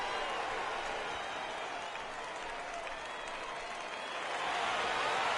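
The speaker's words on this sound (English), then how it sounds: "in front of your home crowd, all those fans cheering" A stadium crowd in the baseball video game MLB The Show 18 cheers and applauds in a steady, dense roar that swells slightly toward the end.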